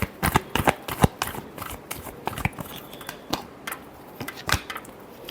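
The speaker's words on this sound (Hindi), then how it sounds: "Last shuffle." Tarot cards shuffled by hand in a quick irregular run of crisp riffling slaps and flicks, close and clear with no talking.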